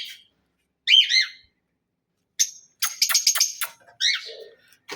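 A pet bird calls to its mate in short bursts of bright, rising whistles and chirps, separated by brief silences, with a quick cluster of sharp tweets near the end; close and clear with no talk.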